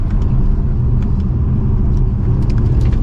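A 2024 Mercedes-Benz CLE450 coupe driving in sport mode, heard as a loud, steady low engine and road rumble from inside the car, with a few faint ticks over the drone.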